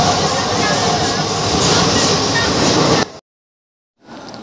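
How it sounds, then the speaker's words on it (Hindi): A train at Motihari railway station makes a loud, close, broadband rumble and roar that drops to sudden silence, then resumes faintly. "अभी मैं मोतिहारी रेलवे स्टेशन से ट्रेन से उतर चुका हूँ"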